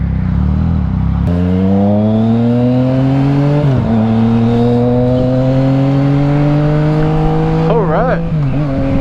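A 2019 Yamaha MT-09 triple motorcycle engine revs loudly and close while riding, rising through gears with shifts and throttle dips, its tone climbing steadily over a constant rush of wind.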